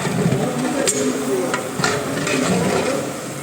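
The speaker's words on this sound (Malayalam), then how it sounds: "ചിക്കൻ മസാല ഇട്ട് നന്നായിട്ട് ഇളക്കണം" Chicken being stirred with chicken masala in a pan, a steady sizzle under scraping and clinking strokes of a spoon, close and continuous with no talk.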